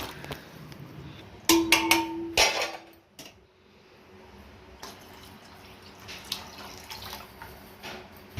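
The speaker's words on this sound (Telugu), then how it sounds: "కొంచెం వాటర్ పడతాయి పోసేద్దాం" Water splashes into a pot for tomato rasam in a short loud gush with clinks of metal, then a quieter stretch of faint dripping and light kitchen knocks.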